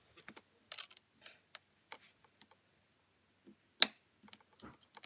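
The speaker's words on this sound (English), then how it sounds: "Remember, push down as you unscrew." Tiny flathead screwdriver working the cover plate screws on an iPhone 6, giving faint, sparse clicks and ticks with one sharper snap midway, close up in a quiet room.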